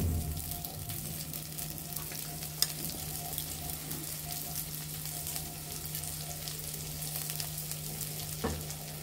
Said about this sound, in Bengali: আমরা মাছ ভাজার তেলে পোলাওর চালগুলো দিয়ে দেব।